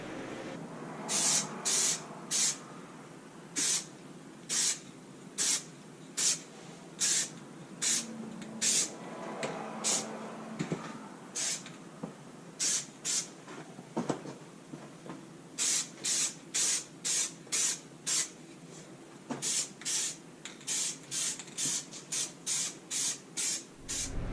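Bursts of clear coat paint are sprayed onto car bodywork during a rebuild, each a sharp hissing puff of about half a second, repeated in fast, regular passes with brief pauses between runs, close and fairly loud.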